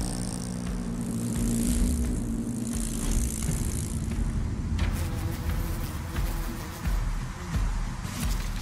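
Hornets flying out to hunt honeybees make a low, steady droning buzz that swells and fades slightly, like a distant engine hum, heard alone without voices.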